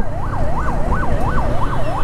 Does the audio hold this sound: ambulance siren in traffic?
yes